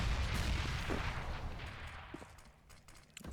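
Grenades go off in mid on the Inferno map in Counter-Strike during a professional esports match, heard as a muffled, rumbling explosion that fades away, followed by faint scattered in-game clicks and pops, fairly quiet and with no voice.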